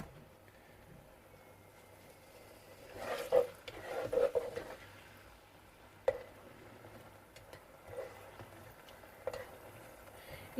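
Sweet chilli chicken being stirred in a pan, with quiet scraping and clinks of a utensil against the pan over a soft low hum, scattered irregular strokes rather than steady sizzling.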